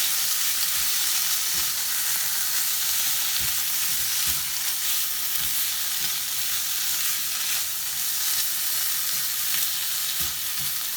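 Steak fries in a pan with chipotle sauce, giving a loud, continuous hiss and crackle with faint scattered stirring taps underneath, steady from start to finish with no speech.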